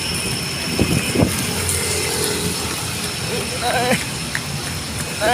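Heavy rain falls steadily in a busy Makati street setting, a dense constant hiss filling the whole clip with faint mechanical clicks and voices mixed underneath.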